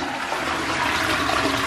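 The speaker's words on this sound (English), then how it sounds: "And now every time we flush" A household toilet flushes with a loud, continuous rush of water heard up close, filling the whole short stretch without any speech.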